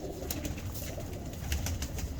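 Pigeons coo close by in a loft of Gojra-line breed stock, a low continuous murmur of overlapping calls with a few sharper bursts, no voices.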